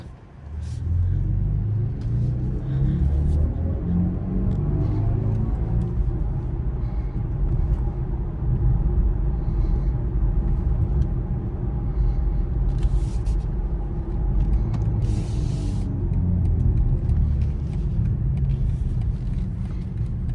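Steady low engine and road rumble inside a moving BMW i4 electric car in Mexico, a constant droning hum with faint higher whine, no voices.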